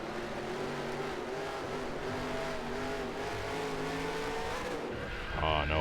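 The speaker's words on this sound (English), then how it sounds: "I tried downshifting to do a cheap spin there" A race car in the NR2003 stock-car racing game revs hard and steadily with a dense engine drone, then downshifts into a spin, ending in a brief tire-skid flourish near the end.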